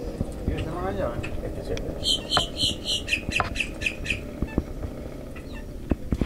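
Grackles in the Everglades, a burst of harsh, rapid squawking calls from the birds, heard over someone talking and a low engine rumble.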